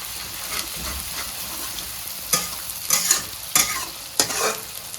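Garlic, ginger and pepper stirred in hot oil for a chicken dish, giving a steady low frying hiss with a few louder scraping stirs near the end.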